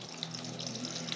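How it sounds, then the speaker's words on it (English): Water rushes steadily from a newly opened valve during a bathroom refit plumbing job, a continuous close hiss and splash with no voices. "we'll just open up this valve and just see if it'll open"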